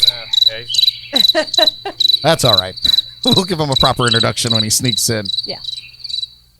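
Steady cricket chirping carries through the whole stretch as a high, pulsing insect trill, while several people talk and laugh over it in a live show setting.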